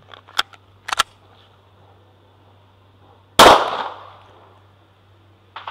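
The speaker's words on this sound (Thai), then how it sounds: "ผมจะทดสอบยิง1นัดนะครับแบบโหมดแบบเปิดรับเสียงไว้ก่อนนะครับ" A single sharp gunshot rings out loudly during an earplug test, its blast decaying over about a second, preceded by a few faint clicks and handling taps, with no talking.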